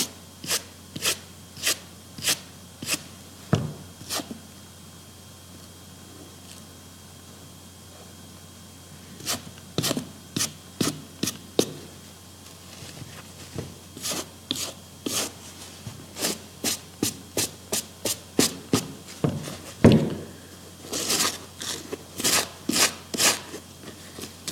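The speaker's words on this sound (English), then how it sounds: "Still not completely dry, but you can see right there. Just scrape to one side." A tool scrapes a not-yet-dry surface to one side in a long series of short, sharp strokes, some isolated and others in quick rhythmic runs, close and moderately loud over a faint steady hum.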